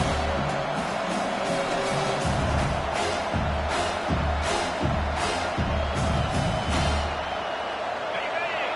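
A loud college football stadium crowd at a Texas game roars steadily for a third-down defensive stand, while a rhythmic thumping beat pulses underneath the din.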